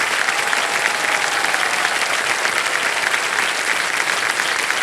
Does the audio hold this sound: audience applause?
yes